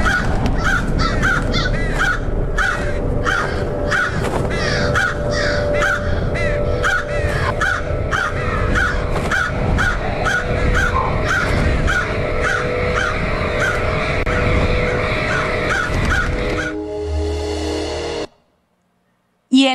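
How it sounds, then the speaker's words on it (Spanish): Crows caw loudly and continuously in a dense, overlapping chorus for most of the stretch, then the cawing cuts off abruptly into a brief silence near the end. "Los cuervos,"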